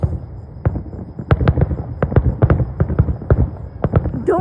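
Fourth of July fireworks going off nearby outdoors, a rapid irregular string of sharp cracks and thuds over a low rumble, punchy and close.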